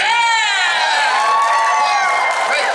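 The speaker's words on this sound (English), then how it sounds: "You guys can applaud for that." Cheering from a convention-style Q&A audience gathered for a cartoon cast and creator, loud whoops and high excited shouts overlapping in a continuous crowd roar.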